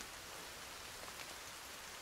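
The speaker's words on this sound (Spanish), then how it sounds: "¡Hala, como llueve!" Steady rain pours down in the survival game Sons Of The Forest, a dense, even hiss with faint drops, quiet and continuous with no other sounds.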